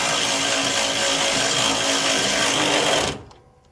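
Power tool whirring steadily close by as a bolt is run tight on a Tuff Torque hydrostatic transmission of a John Deere riding mower, a continuous buzz that cuts off abruptly near the end.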